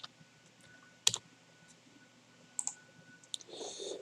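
Computer mouse clicks, a few sharp faint taps spaced apart in a quiet room, including a quick double click, with no one speaking.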